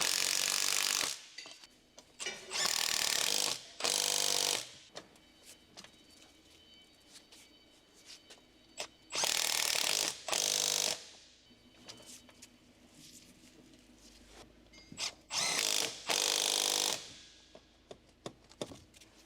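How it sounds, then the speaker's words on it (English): An electric impact wrench with a 13mm deep socket drives the drive shaft-to-transfer case bolts on a 2011-up Ford Explorer 3.5L: several separate loud, close hammering bursts of a second or two each, with quiet gaps between. "Use a large-size 13mm deep socket with an electric impact wrench. Tighten the drive shaft to transfer case mounting bolts."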